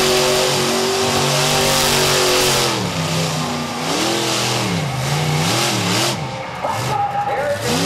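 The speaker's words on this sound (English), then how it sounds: "cranks the Ram into a donut" A Ram pickup truck with a Hemi engine spins a donut at a freestyle show at Charlotte Motor Speedway, its loud engine revving and rising and falling in pitch as the tires scrub, while an announcer talks throughout.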